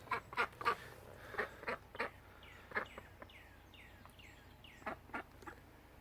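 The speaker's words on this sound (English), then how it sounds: "So that's an update on the daisy ducks." Young farmyard ducks quack in a series of raspy, nasal calls, several close together at the start and then spaced out, moderately near, with softer chirpy peeps from other birds between them and no talking.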